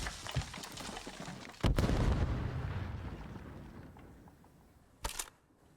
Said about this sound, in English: Here comes the cruise missile, what we've been waiting for